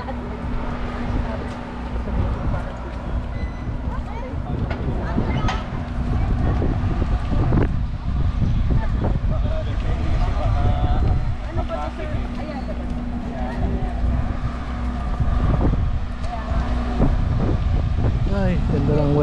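Steady wind buffets the microphone on a warm tropical island, a continuous rough roar with talk running through it.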